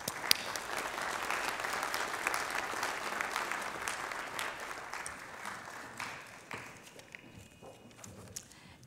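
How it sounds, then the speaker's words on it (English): An audience at a university medical vespers service applauds student performers, a steady dense wash of many hands clapping at a distance that holds for several seconds, then gradually thins and fades out. "Let's give them a big hand of applause."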